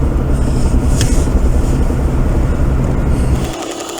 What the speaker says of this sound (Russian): Вот это стучит падла адсорбер.